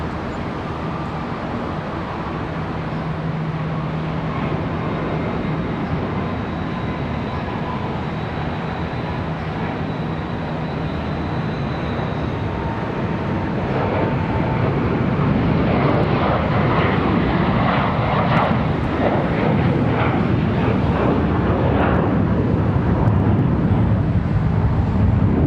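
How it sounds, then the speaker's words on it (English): An Airbus A321 departs Charlotte Douglas airport, its jet engines a broad, steady roar that grows louder and rougher in the second half as it passes, with no voices. "Could be another A321 departure."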